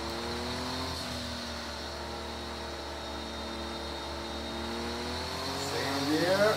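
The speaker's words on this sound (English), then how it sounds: "Second gear, third gear, still pulling hard, and it starts to reduce with the fourth gear." A car engine pulls hard up through second, third and fourth gear, its rising harmonic whine sweeping upward with each shift beneath a steady road roar, loud and close, with a voice talking over it.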